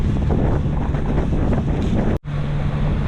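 Steady, loud wind buffeting a microphone mixed with wave wash against the hull of a sailboat under motor and sail off the west end of Catalina Island, continuous roar with a brief dropout near the end.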